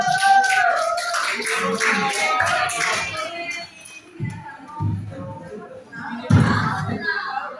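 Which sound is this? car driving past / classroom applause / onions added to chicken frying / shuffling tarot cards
classroom applause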